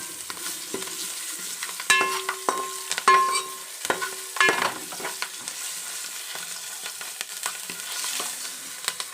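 Green chillies frying in hot oil for a tomato dish, a close, steady sizzle with clattering stirs and bursts of spatter clustered early on, then a calmer crackle, with no voices.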